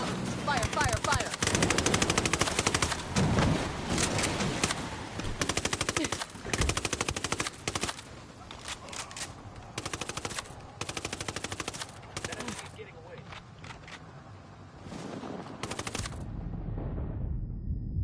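Machine gun fire in a first-person shooter video game: long, loud, rapid automatic bursts, broken by brief pauses, with a voice shouting over the gunfire.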